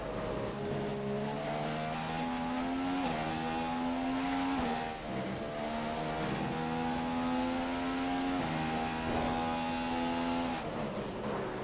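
A Formula 1 car in the F1 2015 game screams through its gears in Australia, the engine's high whine climbing and dropping repeatedly with rapid upshifts and brief lifts, loud and continuous throughout.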